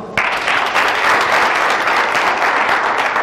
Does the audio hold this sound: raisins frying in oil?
no